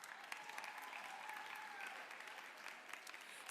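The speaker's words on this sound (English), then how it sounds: "Let's give them a round of applause." Quiet, distant applause from a high school event audience honoring guests, a steady even patter of many hands clapping throughout at low level.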